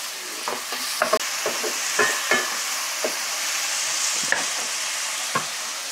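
Three large chopped tomatoes go into a hot pan for beef caldereta, giving a steady sizzle of frying broken by repeated scraping stirs of a spoon at an uneven rhythm, close and fairly loud.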